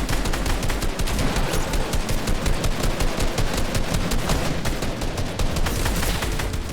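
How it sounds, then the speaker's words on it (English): Gunfire in the video game Fortnite, sniper shots among dense, loud bursts of shooting that continue without pause, heavy and close throughout. "Damn, gets sniped again."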